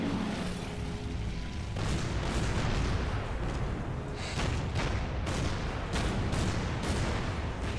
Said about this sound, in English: They are focusing fire on that destroyer like crazy balls